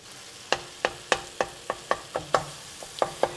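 Egg yolks dumped into a hot pan for a Lao yum salat dressing and stirred, a spoon clacking against the pan about ten times in a steady rhythm over a faint sizzle.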